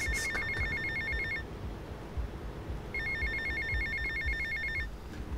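Telephone ringing in the game GTA Vice City, two bursts of a trilling electronic ring separated by a pause, loud over steady game background noise.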